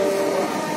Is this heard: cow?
no